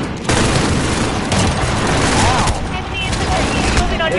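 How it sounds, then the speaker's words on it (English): Dragon's Breath shotgun blasts in Call of Duty, a dense roaring burst of fire and booming shots filling the scene at close range amid chaotic battle noise. "I can take care of him with this Dragon's Breath shotgun."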